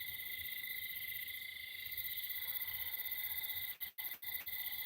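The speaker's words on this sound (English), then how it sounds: "Yep, cicadas, crickets, tree frogs." Night insect and amphibian chorus of cicadas, crickets and tree frogs, with steady high-pitched trilling and droning layers holding throughout, briefly dipping near the end.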